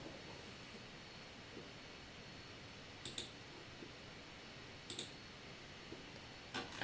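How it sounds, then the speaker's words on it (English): Mouse clicks on a computer while saving settings in Android Studio, a few sharp, quiet clicks spaced apart over a low background hiss, with the last one the loudest. "we will paste it, and then we can click on save"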